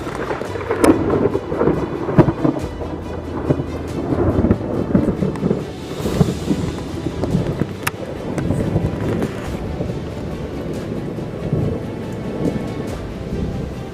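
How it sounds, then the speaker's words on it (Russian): Thunder rumbles through a summer thunderstorm with steady heavy rain, loud and continuous, with a sharper crack partway through. "Так гром будет."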